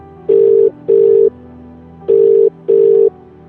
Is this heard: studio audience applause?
no